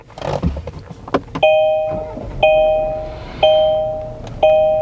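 A 2021 Kia Sorento SX Prestige X Line gives a startup chime: four clear two-tone electronic dings, evenly spaced about a second apart and each fading out, after a brief burst of clicks and rustling.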